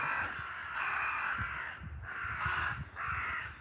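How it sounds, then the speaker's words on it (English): Crows cawing from up high near a Japanese temple with Shinto and Buddhist guardian statues, four long harsh caws in a steady rhythm, loud and clear, with no one talking. "these are the crows up there"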